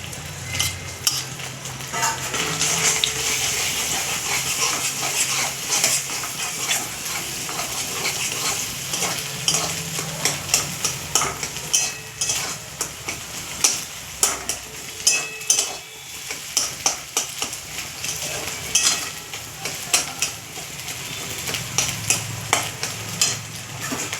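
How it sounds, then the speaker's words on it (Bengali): Whole dried red chillies fry in hot oil in a wok, a continuous crackling sizzle with frequent sharp pops and spatters that grow more pronounced and rhythmic toward the end. "তেলটা গরম হয়ে গেছে, আমি লঙ্কাটা দিয়ে দিচ্ছি, গোটা লঙ্কা শুকনো"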